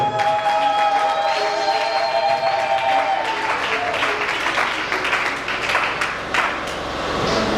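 A church congregation applauds and cheers during a Sunday service, sustained loud clapping and crowd noise filling the room with a faint tonal hum early on.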